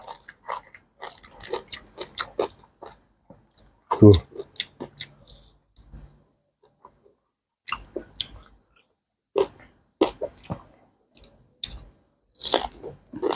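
Crunchy chewing of fresh cucumber salad eaten with grilled crispy-skinned pork, close and loud bites in irregular bursts separated by quiet gaps, with a voice speaking briefly between mouthfuls.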